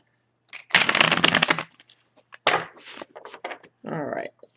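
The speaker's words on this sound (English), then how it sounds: "let's give it one more shuffle, because I really shuffled these" Oracle cards from a Keepers of the Light deck being shuffled in two brisk bursts of dense riffling with shorter shuffles after, close and clear, with brief speech between.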